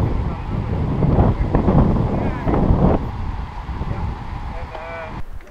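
Strong wind buffets the microphone with low roaring gusts while people talk underneath, outdoors at a stage of a sporting event.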